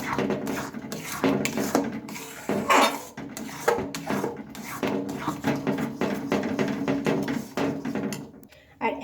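Fried nuts being mixed into a thickened carrot dish in a pan, a continuous run of utensil scrapes and metallic clinks against the pan, close and fairly loud, with a voice talking in places over the clatter.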